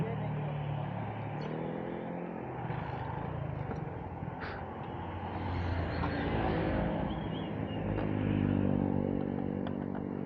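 A motorcycle engine that has started to smoke idles and runs with a low steady drone, rising slightly in pitch toward the end, while people talk nearby.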